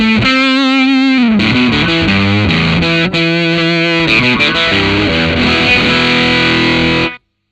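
Electric guitar through a Thorpy FX Veteran silicon fuzz pedal with the gain turned up, giving a loud, saturated, spitty distorted tone with sustained chords and held notes, ringing alone for about seven seconds before cutting off.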